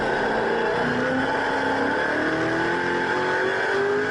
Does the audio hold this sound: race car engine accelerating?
yes